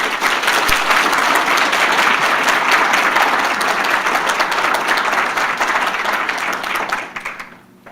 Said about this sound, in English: give our Good as Gold nominees another round of applause